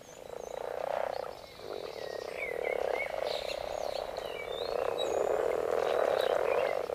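Common frogs and common toads croak together at a spring breeding pond, a dense continuous chorus of overlapping calls held steady throughout, with a few higher chirps and trills over the top.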